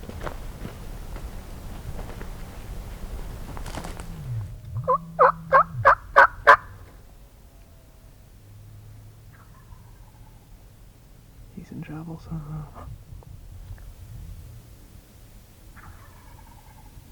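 A wild turkey gobbler on public hunting land gobbles in a loud, rapid burst of about six stuttering pulses partway through. Quiet outdoor ambience and murmured talk from hunters fill the rest of the clip.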